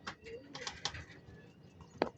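Soft racing pigeon coos sound amid light outdoor background noise in San Simon, Pampanga, with one sharper call standing out near the end.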